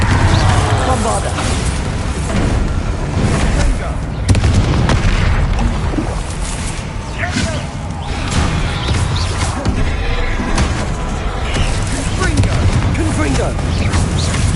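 Booming spell blasts and clattering combat effects from Hogwarts Legacy fill a dense, loud battle, with a spoken incantation ringing out over the chaos.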